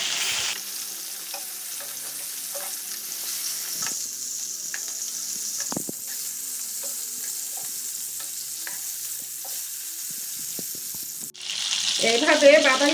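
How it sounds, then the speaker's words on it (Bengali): Rohu fish pieces frying in oil until brown, a continuous crackling sizzle with occasional sharp pops, then a louder burst of spattering near the end as pieces are turned. "সবগুলি মাছ আমি বাদামি কালার করে ভেজে নিব।"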